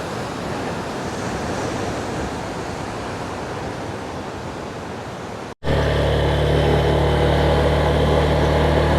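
Ocean surf on the south coast of West Java, Indonesia, with a steady wash of breaking waves heard up close; a brief cut midway, then louder rumbling surf mixed with wind buffeting the microphone.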